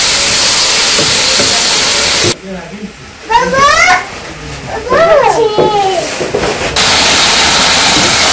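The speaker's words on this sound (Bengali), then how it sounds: "মাছগুলো দিয়ে একটু কষিয়ে নেবো, তারপরে জল দিয়ে দেবো।" Fried baim fish sizzles hissing in spice paste in a village-style pan, loud at the start and end, broken mid-clip by children's voices chattering over a quieter hiss.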